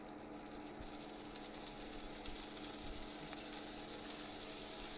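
Butter sizzles in a frying pan for buttermilk pancakes, a steady, dense crackling hiss that holds close and even throughout without talk.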